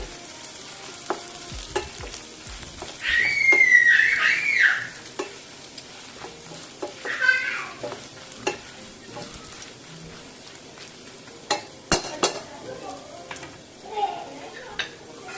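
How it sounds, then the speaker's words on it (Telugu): Coriander stir-fried in a pan for a pickle, with intermittent spoon-scraping stirs over a soft, steady sizzle of frying, fairly quiet and close. "మధ్య మధ్యలో కలుపుతూ వేపేసుకోవాలి కొంచెం కలర్ చేంజ్ అయితే సరిపోతుంది"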